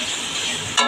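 Pasta vegetables and spices stirred and frying in a pan, with a steady broadband sizzle throughout and a brief louder scrape or clink near the end.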